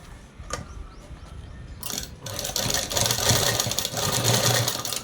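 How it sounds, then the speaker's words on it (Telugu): Sewing machine stitching elastic onto a dress: after a couple of seconds of quiet handling, the machine runs close and loud in a steady, continuous whir to the end. "ఈ ఎలాస్టిక్ దగ్గర నుంచి అనేది కుట్టు వేసేసుకున్నాము"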